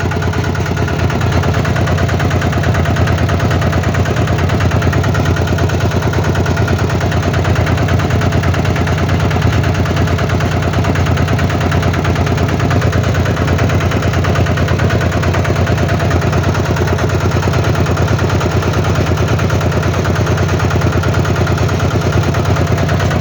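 A loud, steady tractor engine runs continuously with a dense chugging rumble that holds level from start to finish, with no voices.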